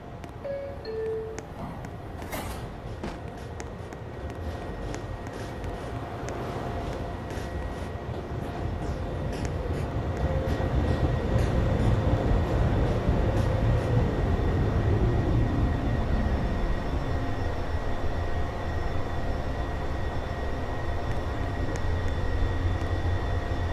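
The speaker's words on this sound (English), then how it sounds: "This is a Manhattan-bound 2 train." An NYC Subway R62A 2 train rides along with a steady low rumble and hiss that swells gradually, a falling whine as the motors change pitch, and a faint tonal hum throughout.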